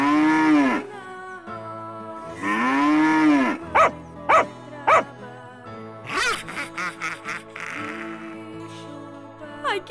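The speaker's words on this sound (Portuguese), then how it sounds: "Barulho no celeiro. O que será? Será que é o boi da cara preta?" A cow moos in a barn: two long, loud, close moos, followed by a series of short rhythmic clanks and quick tinkling sounds.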